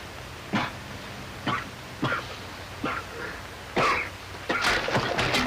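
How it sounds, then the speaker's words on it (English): Several short, harsh coughs or throat-clearing bursts come at irregular intervals, close and fairly loud, with a quick flurry near the end. "Very bad cough, my friend."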